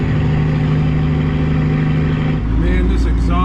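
A truck with its exhaust stack knocked off in a sideswipe drives along, its engine droning loudly and steadily while the loose stack hangs from the side. Near the end the engine tone drops and the sound shifts.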